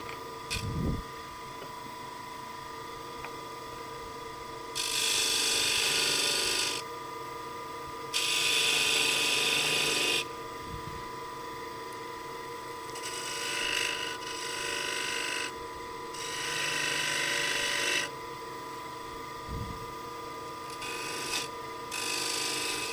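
A wood lathe spins as a spindle gouge turns a small box, the cutting coming in several bursts of hissing, scraping noise between quieter stretches of motor hum.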